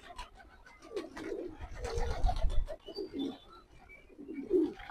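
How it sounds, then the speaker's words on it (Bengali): Jalali pigeons coo in low, soft bursts around a house while they gather for feeding, repeated throaty calls close by with light rustling and a few faint chirps between them. "আমার বাসার জালালি কবুতর গুলো আপনারা দেখেন।"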